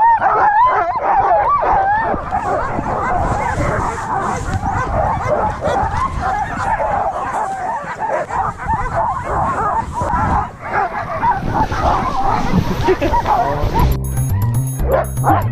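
A pack of sled dogs at a dog-sledding outfit in Banff, Canada bark, yip and whine nonstop at close range, a loud, dense chorus of overlapping excited cries with a voice briefly heard among them.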